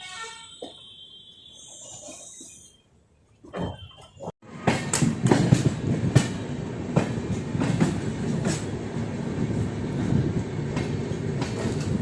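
Passenger train on the Karimnagar to Bhopal route, running steadily on rails with a continuous rumble and rhythmic clickety-clack; quieter at first, then a sharp rise after a brief lull as the carriage noise becomes loud and sustained.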